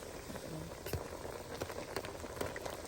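A pot of water rolls at a boil in a kitchen while rattan curry is prepared, giving a close, steady bubbling with scattered pops and splashes over a few seconds.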